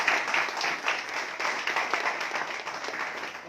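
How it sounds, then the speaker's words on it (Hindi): Audience clapping for new members at an Ova India MLM seminar in Agra, a dense, moderately loud patter of many hands that carries on steadily without talk. "अपने भाइयों के लिए ताली बजा दें एक बार।"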